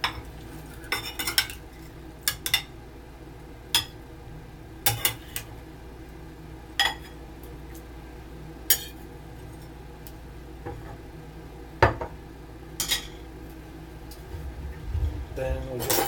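Washed raisins are stirred together in a dish with a spoon, giving scattered sharp clinks and taps against the dish at an irregular pace over a low, steady background hum.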